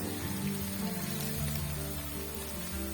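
Masala with garlic-ginger paste frying in a pan for an aloo matar vegetable curry, a dense continuous sizzle and crackle like rain on a surface, steady and close, with no talking.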